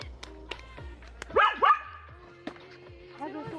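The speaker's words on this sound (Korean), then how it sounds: "어저께 마야랑 빈 왔을 때는 안 짖었거든요" Dogs bark at a forest campsite, with a couple of sharp barks and yips among camp clatter, and people talking nearby.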